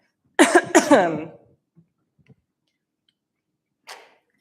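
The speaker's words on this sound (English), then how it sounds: "now I'm going to start coughing" A few harsh coughs in quick succession, close and loud, followed by quiet with faint small clicks and a soft breath.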